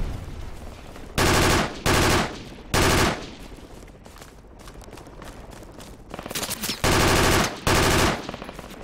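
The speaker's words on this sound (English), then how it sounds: "I'm getting shot at from far southeast" Loud automatic weapons fire in Project Reality: several separate bursts of rapid shots, each lasting under a second, with quieter distant crackle between them.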